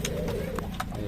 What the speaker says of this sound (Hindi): ये सारे 300 रुपये पर के कबूतर हैं